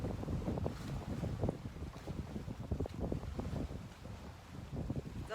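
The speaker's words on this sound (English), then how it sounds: "20 to 30 knot winds. It's crazy out there." Strong 20 to 30 knot wind batters a sailboat at sea, a loud continuous roar with gusting buffets against the microphone and the wash of rough water beneath.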